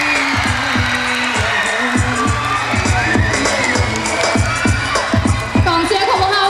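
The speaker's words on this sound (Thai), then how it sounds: "กองเชียร์ของพวกเราคือขึ้นมาทันทีเนาะ" A beauty pageant crowd of supporters cheers and shouts loudly and continuously, with sharp bangs and claps punctuating the roar and whoops rising above it.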